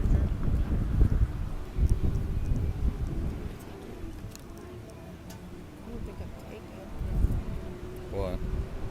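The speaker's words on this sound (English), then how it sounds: "the wind is catching it" Outdoor wind buffeting the microphone at a car show, a steady low rumble that swells and eases, with some faint ticking and distant activity in the background.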